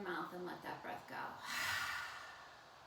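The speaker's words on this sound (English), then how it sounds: "open your mouth and let that breath go" A deep open-mouthed exhale during yoga breathing, preceded by a brief catch of breath, the airy rush swelling then fading out softly and close by.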